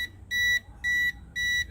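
A voltage tester held against live electrical cables during a water heater timer installation gives three steady high beeps, evenly spaced and close, with nothing else over them.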